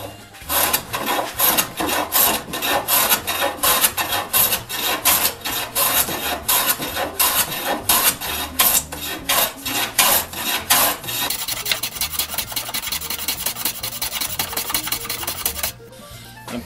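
Craftsman No. 4 hand plane squaring the end grain of a glued-up wooden base, a steady run of close, loud rasping strokes in quick rhythm, continuing without pause for most of the duration.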